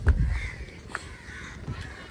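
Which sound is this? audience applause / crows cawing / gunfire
crows cawing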